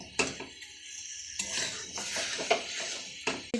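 Spiced chicken with coriander and chili powder being stir-fried in a pan, heard as clinks and scrapes of a utensil against metal at uneven intervals over a moderate frying hiss, close by with no talk.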